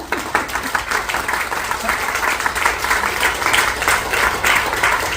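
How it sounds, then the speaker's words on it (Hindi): A live audience at a Hindi comedy show gives loud, sustained applause, a thick continuous roar of clapping that stays strong and even from start to finish. "एक बार जोरदार तालियों से हमें इजाजत दें"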